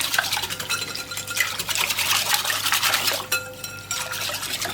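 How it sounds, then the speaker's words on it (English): Ingredients with oil added being mixed in a bowl, giving a steady scraping, clinking stir of utensil against dish that runs continuously at close range with no talk. "Give it a really good mix up"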